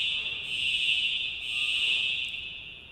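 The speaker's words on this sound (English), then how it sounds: "The fire alarm is going off," Indoors, a fire alarm sounds a steady, piercing high-pitched tone that holds continuously at moderate loudness, with no talking over it.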